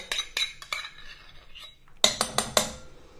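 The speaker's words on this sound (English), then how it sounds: "So I'm going to take half a cup of mayonnaise. I'm going to put it in my bowl." Spoon scraping half a cup of mayonnaise into a bowl, a series of close metallic clinks and taps of cutlery against dishware in quick irregular bursts.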